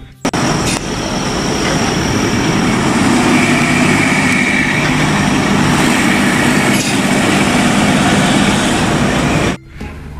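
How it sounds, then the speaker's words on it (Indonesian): A toy tow truck gives off a continuous, fairly loud whirring engine sound effect that runs steadily for most of the clip before stopping suddenly near the end. "Di sini ada mobil derek."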